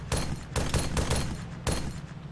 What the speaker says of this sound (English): whoever's in that technical is shooting at friendlies